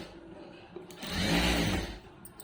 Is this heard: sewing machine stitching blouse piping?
yes